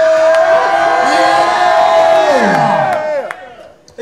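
A concert crowd at a hip-hop show in Columbus cheers and yells in a loud, sustained roar with shouting voices, tapering off as the noise fades toward the end.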